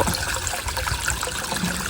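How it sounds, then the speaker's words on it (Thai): Small garden waterfall trickling and splashing steadily into its pool, a close, continuous babbling water sound with no voices. "ฟังเสียงน้ำตกค่ะทุกคน"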